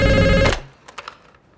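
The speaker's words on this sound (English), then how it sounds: "until the damn phone rings." A telephone rings once, loud and close, in the horror film Smile, then cuts off into near silence with a few faint soft clicks and rustles.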